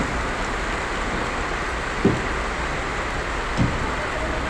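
Rain falls steadily in a soft, continuous hiss at moderate distance, with a couple of faint, brief knocks standing out from the wash.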